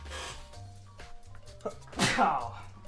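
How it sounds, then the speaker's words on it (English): A man sneezes once, a sudden loud burst late in the moment after a stretch of quiet muffled noise, with speech around it. "That sneeze has been teasing me all day."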